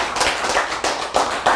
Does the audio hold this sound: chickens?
no